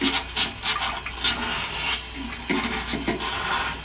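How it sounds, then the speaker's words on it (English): Sandpaper scrubs corrosion off an old, leaking toilet part in quick repeated rasping strokes, close and fairly loud, an uneven back-and-forth rhythm with no talk. "Get a piece of sandpaper and just clean it."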